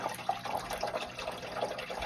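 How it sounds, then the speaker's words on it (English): Water pours and trickles into the drain hole of a pond filter, a faint, uneven splashing with small drips and gurgles throughout. "You can see it's slowly going into the drain hole, into the filler."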